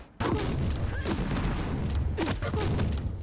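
Shotguns fire repeatedly during a Quake Champions league match, rapid booming blasts with thuds and a brief pause before a second burst, loud and close, with no speech over it.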